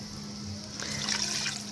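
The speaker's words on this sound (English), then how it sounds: "That is 3/4 of a cup of water." Water poured into a cooking pot for Taco Bell-style cheesy nacho tacos in a Ninja Foodi, a soft brief splashing trickle that swells near the end over a low electrical hum.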